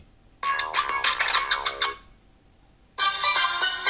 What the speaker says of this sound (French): Maintenant il y a une sonnerie aussi au Kitel.